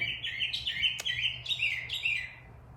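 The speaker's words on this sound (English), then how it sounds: "The birdies. Springtime's coming." Several birds chirp and tweet in repeated bright bursts during springtime, moderately close and clear over a low steady hum, with one sharp click partway through.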